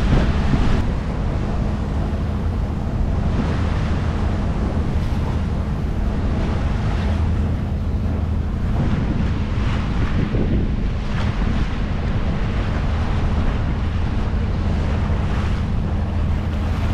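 Strong wind aboard a sailboat near Nassau roars steadily, buffeting the microphone with a constant low rush and occasional gusts.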